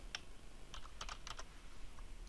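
Short bursts of typing on a computer keyboard while entering a file name for an MP4 export, with several quick clusters of crisp keystrokes close up and no talking.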